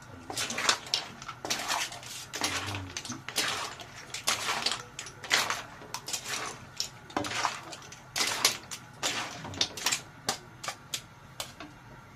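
Clams and spaghetti being stirred in a pan with plenty of butter, giving close, irregular clinks and rattles of shells against metal over a soft sizzle, with uneven bursts throughout.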